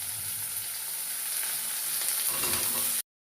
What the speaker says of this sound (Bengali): এবার আমি দিয়ে দেব আলুগুলো দিয়ে ভালো করে কষা করতে হবে।